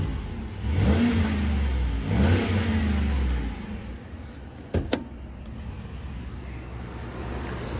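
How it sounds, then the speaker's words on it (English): A 2010 Ford F150 pickup with about 131,000 miles gives a low engine rev that rises and falls twice, close by, followed by a steady idle with a couple of sharp clicks. "Motor sounds great."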